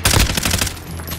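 A short, loud burst of rapid automatic gunfire in a multiplayer shooter game, close and punchy, fading quickly within about a second.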